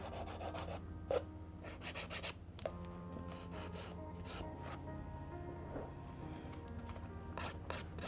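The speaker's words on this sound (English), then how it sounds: "filing your cuticle area, make sure that your hand file is at a 45-degree angle" A hand file works over a nail's cuticle area in quick, repeated light scratching strokes, soft and close, with a steady rhythmic rasp and no talking.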